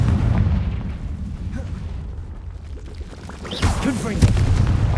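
Confringo blasting curse explosion in Hogwarts Legacy, a booming burst that swells over a dense rumbling bed with a sharp pop near the end.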